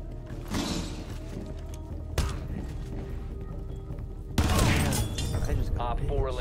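Shotgun blasts in Rainbow Six Siege ring out as sharp, loud bursts, one early and a heavier cluster near the end, over constant game noise while players talk excitedly throughout.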